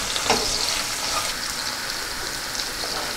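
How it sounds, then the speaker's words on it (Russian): Onion frying in a pan with carrot tipped in, giving a steady, close hiss of sizzling oil with a brief rattle as the pieces land. "наш лучок уже начинает немножко разогреваться здесь, и мы всыпаем сюда морковку"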